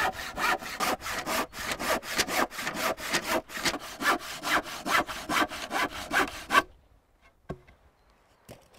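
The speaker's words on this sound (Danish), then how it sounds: "Her skal det bare saves." A handsaw cuts wood with fast, steady back-and-forth strokes for about six seconds, loud and close with no talking, then stops and gives way to near silence with a couple of faint knocks.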